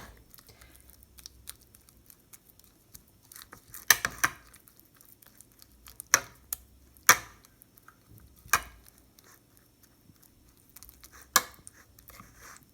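Oatmeal breakfast with banana being mixed in a bowl, heard as sparse, close, sharp clicks and taps of a utensil against the dish, separated by quiet gaps.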